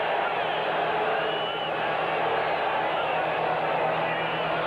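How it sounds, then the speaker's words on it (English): A 1980s NFL football stadium crowd at Cincinnati roars steadily as a Bills-Bengals game nears a fourth-and-inches play, a dense and constant far-off swell that carries under the talk. "Crowd coming alive."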